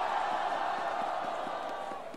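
Live crowd at a Brazilian rap battle react event roaring and cheering loudly and continuously, a dense sustained wall of voices with scattered shouts that fades slightly at the end.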